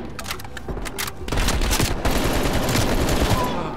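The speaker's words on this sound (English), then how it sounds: "They're shooting at us!" Gunfire in Call of Duty Black Ops Cold War comes as sharp separate shots that build into a heavy, continuous volley, loud and close.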